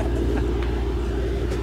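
A Mercedes-AMG W213 E63S with upgraded turbos rumbles steadily from inside the cabin, a low continuous engine drone at cruise.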